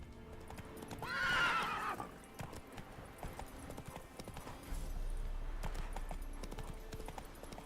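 A horse named Roach gallops in a video game, its rapid hoofbeats rolling along with a sharp neigh early on, all fairly faint over a quiet background.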